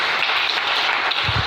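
Congregation applauding the Lord during a church sermon, a dense, steady wash of many hands clapping throughout, fairly loud and continuous with no talk over it.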